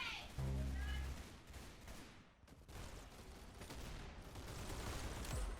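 Gunfire in the Roblox game Arsenal, a dense continuous barrage of rapid shots with a brief lull midway, loud and busy, with a faint voice mixed in.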